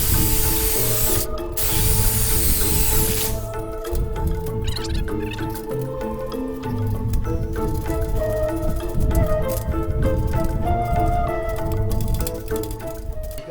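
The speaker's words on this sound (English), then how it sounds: "So let's start drilling." A power drill whirs continuously while boring bolt holes in a custom truck camper rear deck in a shop, a steady high-pitched motor whine with brief pauses and shifting pitch, close and loud.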